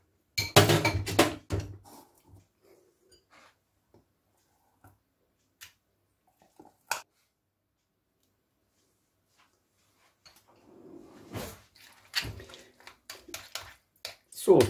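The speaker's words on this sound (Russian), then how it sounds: "Соус перемешиваем." Guacamole stirred in a bowl, with a brief burst of spoon-against-bowl clinks and scraping at the start, then scattered faint taps, and a second run of clinking and scraping near the end.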